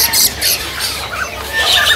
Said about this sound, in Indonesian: Ini foksai jambul Sumatera ya.